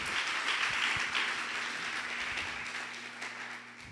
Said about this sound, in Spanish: Alguien dele un aplauso fuerte al Señor.